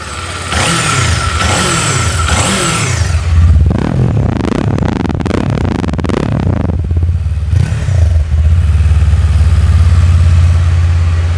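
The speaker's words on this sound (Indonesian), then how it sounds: "Ini suara dari engine ya." A new Kawasaki Eliminator twin-cylinder motorcycle engine rumbles close by, blipped through a series of sharp revs before dropping back to a deep, lumpy idle.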